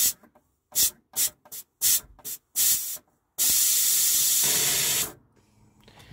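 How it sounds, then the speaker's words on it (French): Steam hissing from a pressure cooker of potatoes, released in several short bursts and then one long continuous hiss of about two seconds that fades out. No talking. "C'est nettoyage de la vapeur."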